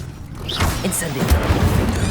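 Incendio fire spell cast in Hogwarts Legacy, a whooshing burst that swells into a low, rumbling roar and thuds over about two seconds, with a voice speaking over it.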